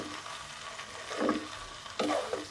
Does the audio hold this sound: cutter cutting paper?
no